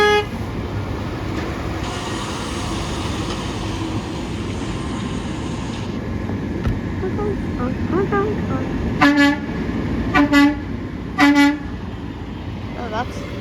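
Truck horn at a rail yard, three loud separate honks near the end of the clip after a stretch of idling engine rumble, with people talking nearby.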